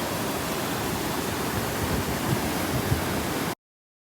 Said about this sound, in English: This is the weir, the second weir.